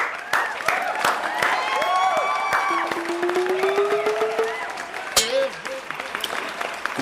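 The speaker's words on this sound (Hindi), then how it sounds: "तो जोरदार तालियों के साथ स्वागत कीजिए अदिति अग्रवाल जी का।" An audience claps warmly to welcome a guest onto a Hindi talk show, with dense, sustained applause under a voice as he calls the guest forward.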